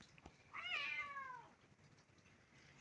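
A cat gives a single clear, drawn-out meow at close range, rising then falling over about a second, followed by quiet room background with no talking.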